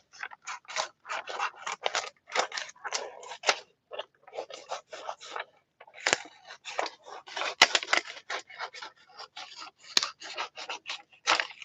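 Scissors snip out paper roses and rosebuds in a quick, steady run of crisp close cuts, pausing briefly now and then before resuming.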